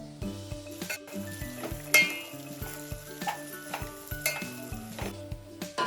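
Mixed vegetables (chickpeas, pigeon pea pods, peas, hyacinth bean pods, carrots, spring onion greens and fenugreek leaves) are stirred and fried in a pan for a traditional Latur bhaji. A steady sizzle runs under repeated clinking stirs from a utensil against the pan.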